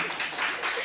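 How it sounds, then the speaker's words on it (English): An audience at an African BioGenome Project regional workshop claps briefly to welcome a professor, a short spread of soft, steady applause heard at moderate distance. "So let's welcome her with a clap."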